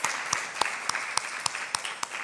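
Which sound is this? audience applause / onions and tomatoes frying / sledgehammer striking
audience applause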